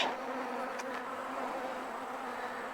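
Honey bees buzzing steadily around a hive in an apiary colony in September, a dense continuous hum close by with no other sounds.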